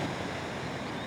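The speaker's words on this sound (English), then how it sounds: "Amazing waterfall." A waterfall on a wild river gives a dense, continuous rushing roar, steady and fairly loud with no pauses, partly mixed with wind.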